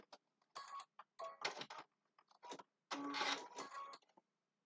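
A sewing machine stitches fabric for a triangle zipper bag, running in short bursts with brief pauses, then a longer steady run. The whirring is close and fairly quiet, with no talking.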